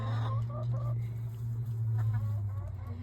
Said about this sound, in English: All beautiful chickens.